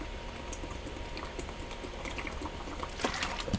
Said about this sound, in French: Vous allez m'entendre boire ASMR boisson cristalline.